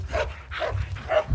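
A dog at an outdoor fair barks in three sharp close yips in quick succession, loud and alone.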